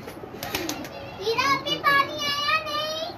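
Domestic pigeons kept on a rooftop, cooing in soft repeated calls close by while children's voices chatter over them.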